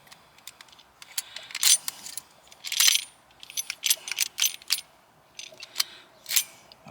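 Metal keys jingle and click in short bursts as they are tried in a new ignition switch for a 2006 Honda Odyssey, close and fairly faint, with about a dozen separate rattles and pauses between them.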